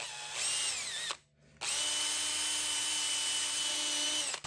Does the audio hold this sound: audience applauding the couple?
no